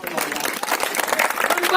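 A crowd at a local party ward meeting in Prayagraj claps to welcome a newly appointed ward president, quick uneven clapping mixed with voices and cheering throughout.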